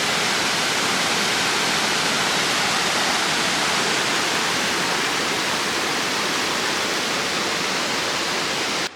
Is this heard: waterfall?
yes